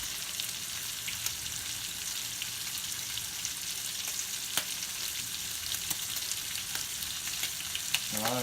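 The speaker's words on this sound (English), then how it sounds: "These little sausages cooking up good. I like to get them real crispy" Little sausages fry in a pan, cooking until crispy, with a steady close-up sizzle and crackle that runs unbroken for the whole stretch, sharp pops here and there and no one speaking.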